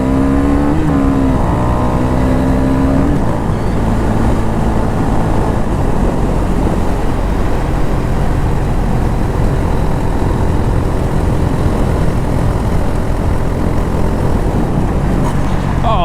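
A car engine pulls away in second gear on a winding road, a loud, close, continuous drone with a rising rev early on, then a steady heavy engine roar with road noise for the rest of the run.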